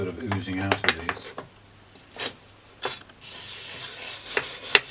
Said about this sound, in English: So I'm just giving my light scrub to start with.